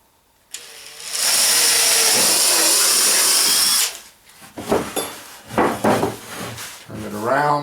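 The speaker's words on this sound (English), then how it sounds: "As I'm drilling my holes, I want to wiggle the drill bit at an angle a little bit." A power drill bores holes in wood for an ammo box: a loud sustained whine lasting about three seconds, then shorter bursts and bit scraping as the bit is wiggled at an angle.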